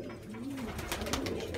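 Pigeons coo in soft, wavering low calls that run steadily beneath a noisy, hissy background, fairly faint and without speech.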